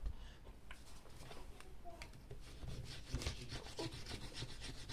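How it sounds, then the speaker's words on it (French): Steady dry scraping of a coin over a scratch card, a continuous rasping rub with short grainy strokes, close and moderately loud with no talking. "je vais gratter une petite carte de mon défi enveloppe"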